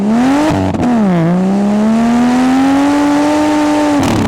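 Turbocharged Ford Falcon XR50 ute with a Barra engine and an X-Force exhaust, revving loud and close, a deep sustained roar that dips, then climbs steadily in pitch before cutting off.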